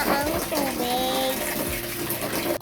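Water runs steadily into a bathtub as a child's bath is prepared, a continuous close gushing stream with a voice faintly heard underneath.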